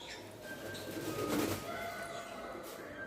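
Pigeons coo softly at a water park, their low murmuring calls carrying at a moderate distance over a steady background hum, with no one talking.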